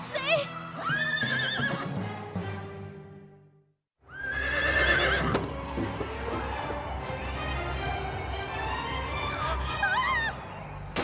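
Cartoon horse whinnying loudly during a riding competition, with galloping hooves and music running throughout; the sound breaks off briefly midway, then resumes with excited whinnies under continuous scoring.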